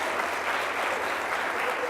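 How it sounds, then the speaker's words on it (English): Continuous applause from a conference crowd at a live leadership event, a dense wash of clapping heard at moderate distance, steady and unbroken with a murmur of voices mixed in. "give yourselves a round of applause."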